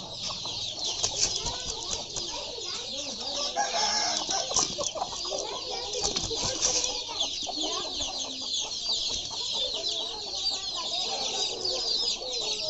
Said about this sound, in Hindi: ये हैं जी सील मुर्गे जिनके साथ लड़ाई की जाती है, जिनको लड़ाया जाता है